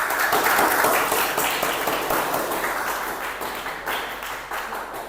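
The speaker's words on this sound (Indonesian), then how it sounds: "Tepuk tangan dulu, tepuk tangan." A class of students claps together at the start of a lesson, a dense burst of applause that is loudest at first and slowly tapers off across several seconds, close and roomy.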